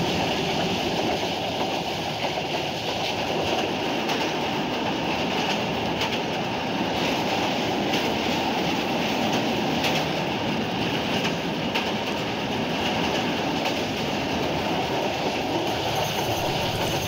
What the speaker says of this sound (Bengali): এখন বুড়িমারি এক্সপ্রেস মোটামুটি 75-80 কিলোমিটার গতি কিন্তু ধরে রেখে এগিয়ে যাচ্ছে